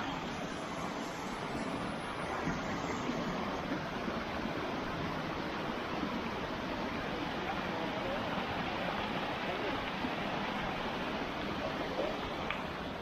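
A constant broad rush of water flowing at the Gali Ali Beg waterfall in Iraq fills the scene, steady and fairly loud, with no voices.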